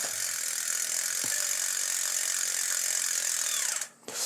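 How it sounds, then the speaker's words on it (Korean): An Aviav rear bicycle wheel hub freewheeling, its ratchet pawls giving a dense, rapid, even buzzing click close up that cuts off abruptly near the end. "라쳇 소리가 꽤 이 정도면은 좀 있는 게 아닐까 하는 생각이 드네요"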